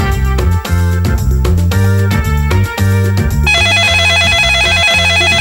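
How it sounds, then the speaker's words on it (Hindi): A telephone rings loudly and insistently at night, a bright repeating electronic ringtone with steady rhythm, alone without talk. "तुम्हारे फोन रात को भी बंद नहीं होते।"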